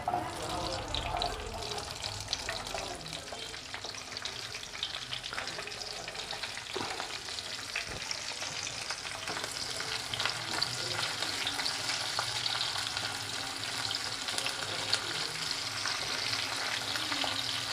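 Chopped onion frying in hot white oil, a dense continuous hiss and crackle heard close and steady throughout, with faint talk in the background.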